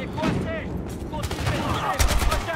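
Gunfire in the video game Battlefield Hardline, bursts of shots crackling throughout with heavier close blasts near the end, under faint voices and game ambience.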